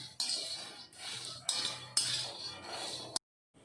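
Peanuts stir-roasted in a pan over a low flame, with a utensil clinking and scraping against the pan in several bursts of rough rattling that stops abruptly near the end; no talking.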